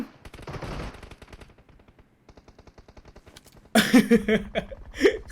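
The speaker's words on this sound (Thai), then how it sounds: "นายระวังกระสุน" Gunfire in PUBG Mobile during an 8-versus-8 match: a rapid rattling burst of automatic fire opens, followed by sparse shots and then heavier, louder firing and impacts near the end, with no talking.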